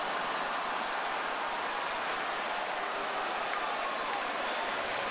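A baseball stadium crowd at a Braves at Cubs game cheers loudly and steadily after a walk, a dense continuous roar of many voices.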